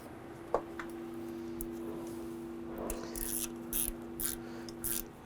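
Nut being tightened on an ignition coil of a 2006–2011 Honda Civic, heard as faint ratchet clicks in short bursts near the end over a steady low hum, quiet and close.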